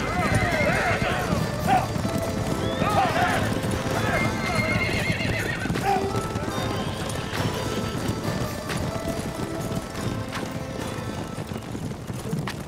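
Several horses gallop off together in a forest setting, hooves clip-clopping steadily and neighing and whinnying rising over the din, loud and close throughout with voices mixed in.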